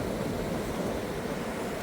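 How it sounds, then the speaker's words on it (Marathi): Sea waves wash up a beach in Goa at high tide, a steady close surf wash with wind noise underneath and no talk. "आता भरती आहे त्याच्यामुळे आता पाणी वरती येतं आहे."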